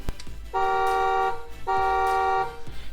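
Two long, loud electronic horn blasts from a 12V kids electric ride-on Range Rover toy SUV, each a steady harmonic tone lasting about a second, separated by a short gap, with clicks before and after.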